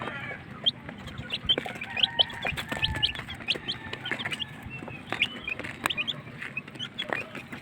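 Chickens clucking in a poultry breeding pen, a busy scatter of short clucks and squawks from several birds nearby, continuous over the ambient hum with no talking.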